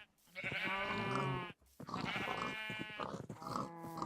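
Sheep on a farm in the game Newlands give three long, loud bleats, each close and wavering, with short gaps between them.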